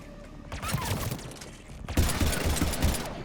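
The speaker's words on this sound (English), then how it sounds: "Why do I have this crappy pistol?" Gunfire in Mass Effect 3 during a battle on Rannoch, with rapid bursts of shots crackling over a game backdrop, a quieter opening stretch and then a louder, denser volley in the second half.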